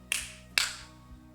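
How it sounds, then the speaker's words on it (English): Two sharp hand claps ring out close by in a quiet room, about half a second apart, each followed by a brief decay over a faint background hum. "I thought he was clapping at me"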